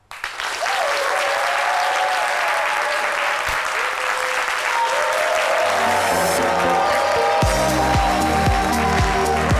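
Loud, sustained audience applause from a large crowd, building quickly and continuing throughout, with music and a voice faintly underneath.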